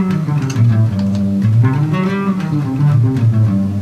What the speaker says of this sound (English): So there's something called the harmonic minor scale, which sounds like this.